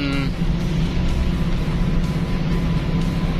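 Loud, constant engine hum and road roar from a classic 1970s Toyota Corolla KE20 on the move, heard from within the cabin, with a short higher whine at the start.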